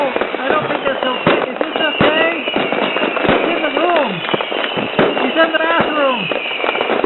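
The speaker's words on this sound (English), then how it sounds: "I'm going to light off some fireworks in the bathroom here." Fireworks going off indoors in a bathroom, a dense barrage of sharp cracks, pops and whistles that echo off the hard walls, loud and continuous, with people's voices mixed in.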